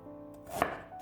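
A single knife chop through fresh ginger on a cutting board lands as one crisp, close thud in an otherwise quiet moment.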